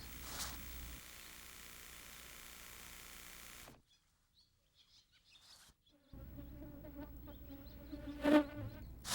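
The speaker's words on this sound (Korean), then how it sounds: "맵시벌이 자나방 애벌레를 보고 날아들었다" An ichneumon wasp flies toward a geometrid moth caterpillar, its faint buzzing hum rising and fading with a quiet gap in the middle, outdoors among insect sounds.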